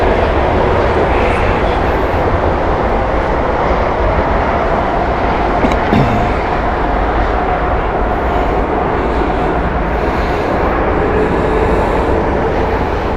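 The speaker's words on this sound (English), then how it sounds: "There is the beautiful Dreamliner." A Boeing Dreamliner airliner at Heathrow Airport makes a loud, continuous broadband jet roar that holds steady throughout, with no voices over it.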